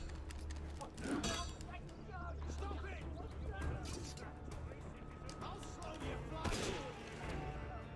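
Gunfire crackles through a chaotic Assassin's Creed Unity street fight in revolutionary Paris, with several sharp shots and clashing impacts rising over a dense background of crowd noise and talking voices.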